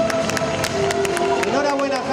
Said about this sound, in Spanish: fuerte aplauso a los 5 finalistas y a nuestro ganador, a nuestro nuevo Mr. Cosmos España